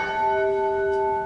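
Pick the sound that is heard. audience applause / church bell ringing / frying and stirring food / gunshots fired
church bell ringing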